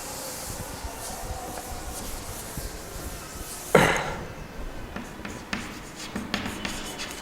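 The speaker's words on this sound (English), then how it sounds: "Okay, so let me write it." Chalk or a marker writes on a board in a college classroom, a faint rubbing and tapping run of strokes with one sharper knock partway through and no talk.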